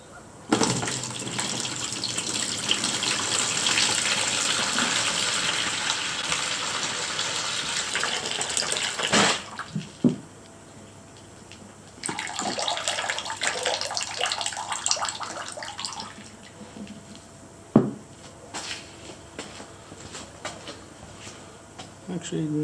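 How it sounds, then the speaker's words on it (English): Meltwater gushes from the drain of a Yeti V Series cooler into an 8 litre container, a loud continuous pour that stops abruptly, resumes briefly, then trickles out with a few clunks. "I'm going to drain off the water. And from memory this container is about an 8 litre container"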